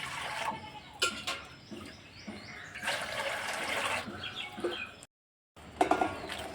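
Jujube fruits tipped into a large pot of water for washing, giving a run of close splashes and sloshing with a brief clatter of fruit, then a short pause before more water movement.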